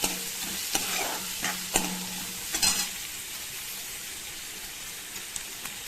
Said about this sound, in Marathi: कांदा परतून घ्यायचा